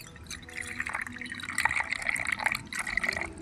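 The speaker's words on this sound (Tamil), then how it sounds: "தண்ணி ஊற்றிக்கலாம்." Water pours steadily into a cooking pot in a home kitchen, a continuous splashing trickle with small bubbling spurts, close by and moderately loud.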